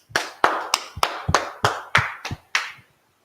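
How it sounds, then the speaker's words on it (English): During a class session, a group claps in a loose, uneven rhythm of about nine sharp, distinct claps, close and fairly loud, then stops abruptly into silence. "Clap it up."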